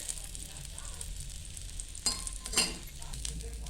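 Poha cooks in a pan with a little added oil, giving a soft steady sizzle close by, with a couple of brief louder clatters from the pan or lid near the end.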